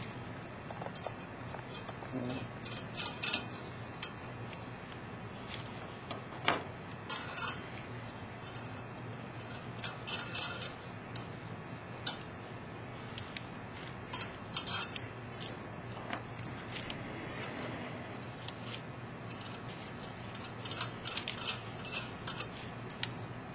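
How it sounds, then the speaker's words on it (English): Small metal spacers and nuts clinking and ratcheting as they are fitted onto threaded rods of an OPTISEP 800 holder, a close run of light taps and metallic clicks through the whole stretch. "We're going to place 1 small spacer onto that stud and 1 nut."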